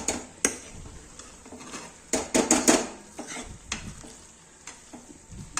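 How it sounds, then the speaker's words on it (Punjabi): A metal spatula scrapes stuck gram flour off the bottom of a pan while making a cauliflower dish, giving repeated close scratching and clinking strokes over a soft sizzle, with a dense burst of scraping in the middle. "ਆ ਦੇਖੋ ਜਿਹੜਾ ਬੇਸਣ ਆਪਣਾ ਥੱਲੇ ਲੱਗਿਆ ਹੋਇਆ ਇਹਨੂੰ ਇਸ ਤਰ੍ਹਾਂ ਆਪਾਂ ਖੁਰਚ ਲਵਾਂਗੇ"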